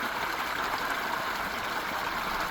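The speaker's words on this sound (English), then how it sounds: "it is actually possible to hear the water running into the ditch next to it" Continuous rushing of water from Pentireglaze Well near Polzeath, Cornwall, pouring into a ditch, a steady broadband gush with no pauses, fairly close.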